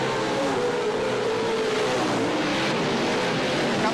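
Off-road race trucks roaring off the start of a short-course race, a dense, continuous engine drone from several vehicles at once, loud and steady with no voices over it.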